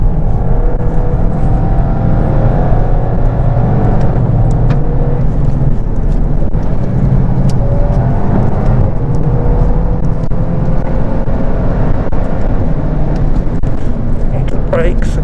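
A Volkswagen Golf GTI TCR accelerates hard on a race track, its engine a loud, steady drone with rising pitch that fills the whole stretch, heard from inside the car with a voice faintly underneath.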